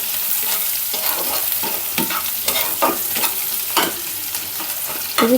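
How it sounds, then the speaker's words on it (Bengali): Leafy greens with potato fry in hot oil with onion, garlic and dried chili, giving a steady close sizzle broken by repeated scraping stir strokes, with no talking. "আমি শাকটা দিয়ে দেবো তেলে"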